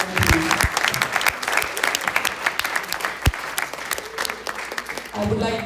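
An audience at a youth volunteer program's annual day breaks into loud, sustained applause, dense clapping throughout with a brief lull near the end.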